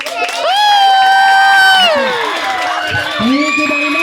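Crowd at a Christmas party contest cheering, whooping and shouting loudly for a lechon belly dance number, high excited voices rising and falling across the whole stretch.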